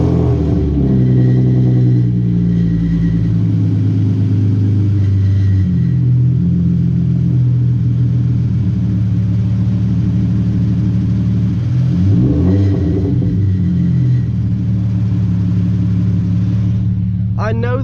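A Hyundai Genesis Coupe fitted with ARC downpipes gives off a loud, steady engine drone with rumbling harmonics. Revs rise and fall partway through, and a short sharp burst comes at the very end.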